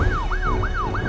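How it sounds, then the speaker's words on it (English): Cartoon fire truck sirens wail in a fast repeating rise-and-fall sweep, loud and close, four cycles in quick succession with no talk over them. "I can hear the fire truck sirens."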